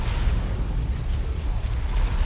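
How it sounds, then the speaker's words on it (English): A point-blank D-Cannon shot in Dawn of War 2: Retribution erupts as a dense, low, rumbling explosion that fills the whole brief moment, heavy and sustained with no voices over it. "a point blank D-Cannon shot there"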